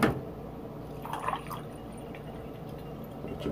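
Water pouring into a drinking glass in the morning, a soft steady liquid trickle and drip running throughout, fairly quiet and close, with no talking.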